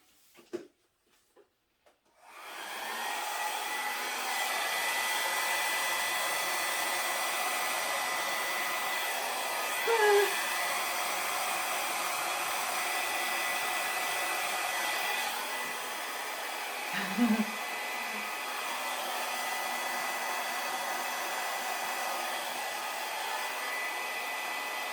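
Steady, loud rush of blown air runs for about twenty seconds across poured acrylic paint in a Dutch pour, with a couple of faint knocks partway through and a brief pause before it resumes.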